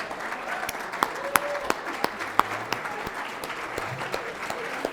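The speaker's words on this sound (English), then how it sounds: "I'd like all of you to stand so we could give you a round of applause." An audience at an awards ceremony gives honorees a round of applause, scattered but steady hand claps with a few sharp, close claps standing out over the crowd.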